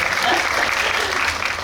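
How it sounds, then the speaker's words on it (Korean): A film audience at a post-screening talk event claps steadily, a dense and even wash of applause at fairly close range. "여기서 박수 한번 쳐주실래요?"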